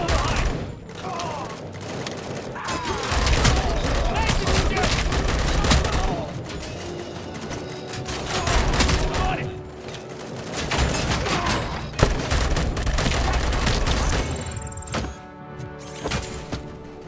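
Covering gunfire in the video game Robocop Rogue City: a prolonged, loud firefight of rapid automatic bursts and heavy impacts, nearly continuous with brief dips, close and intense, with voices calling out underneath.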